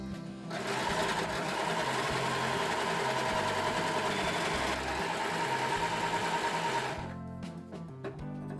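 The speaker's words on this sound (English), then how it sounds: "So I'm going to start with the nylon fabric. I'm just going to stitch these 2 sides together." A Brother 1034DX serger stitching two sides of nylon fabric together, running as a steady, close mechanical whir for about seven seconds before stopping.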